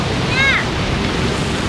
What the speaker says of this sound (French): il y a encore de belles vagues là-bas au fond.